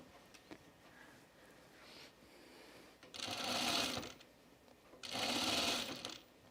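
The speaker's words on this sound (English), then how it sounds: "slowest side seam sewing ever" A sewing machine stitches a side seam on a button-up shirt in two short, loud bursts of running needle noise, separated by a quiet pause. Faint hand-handling sounds come before the first burst.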